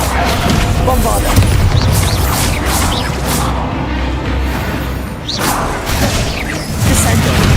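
Bombarda spell explosions in Hogwarts Legacy, a loud dense barrage of booming blasts and crashes running almost continuously, dipping briefly before resuming at full force.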